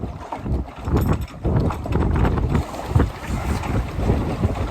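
A small sailboat beats upwind near a shallow shore: water slaps and splashes against the hull in an uneven rhythm, close and loud, with heavy wind rumble over the microphone.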